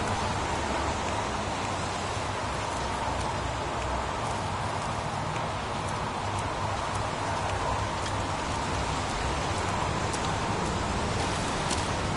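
Steady rain in the Heavy Rain video game, an even, continuous hiss of falling water with faint scattered drop taps, holding at a constant level throughout.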